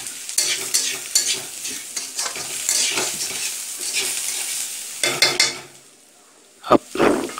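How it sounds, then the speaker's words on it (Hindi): Potato pieces fry in hot oil with onions and get stirred in a pan, giving a close, lively sizzle broken by spatula scrapes and a few sharp clinks against the metal toward the end. "फिर इसमें आलू डाल दीजिए और फ्राई करिए"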